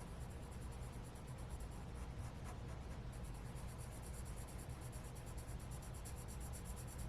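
Faint, continuous scratchy rasping of a colored pencil shading across paper, soft and even, with light rhythmic strokes and no talking.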